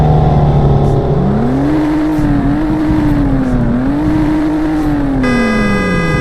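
A BMW M2 engine climbs steadily in pitch as the car accelerates hard toward top speed, with a loud, close drone that rises and dips through a few gear changes, then a brief flat tone near the end.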